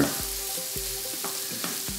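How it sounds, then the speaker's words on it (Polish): Chopped tomatoes sizzle and crackle in a hot pan, steady frying hiss with periodic scraping stirs, close and fairly loud. "I smażymy tak długo, żeby pomidorek się"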